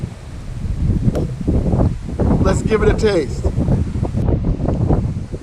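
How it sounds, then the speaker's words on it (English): Steady wind buffets the microphone with low rumbling gusts while a person talks over it outdoors while camp cooking. "Sorry if it's windy."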